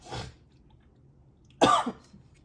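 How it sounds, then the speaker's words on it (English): Two coughs: a soft one at the start, then a sharp, loud cough after a short quiet pause, close to the listener. "Excuse me one second, I have to cough."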